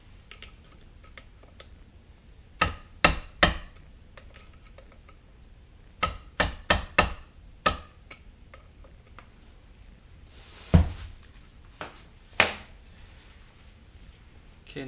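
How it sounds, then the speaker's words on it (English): Sledgehammer blows on a flat head against a 2002 Honda Odyssey automatic transmission during teardown, sounding as a few separate sharp metallic strikes spaced apart, some in quick runs of two or three, over a quiet workshop background. "And I'm going to use a sledgehammer"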